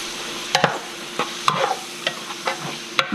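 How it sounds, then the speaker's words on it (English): Ground beef and onion are stirred in a pan for taco soup, with a spoon scraping and clacking in a few distinct strokes over a faint steady sizzle. "And then we'll stir that up in there."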